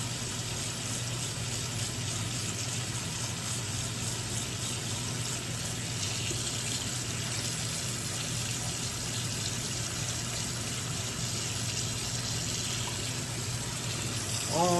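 Water runs steadily over a dyed Draco pistol with a wooden furniture, a continuous broadband rush like a faucet stream, even and close throughout with no pauses.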